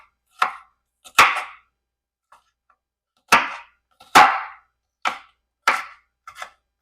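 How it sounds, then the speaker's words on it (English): A knife chops taco ingredients into pieces on a board, giving about eight sharp, separate thunks at uneven intervals with silence between them, close and clear with no voices. "we just want to cut these up into pieces about this size right here"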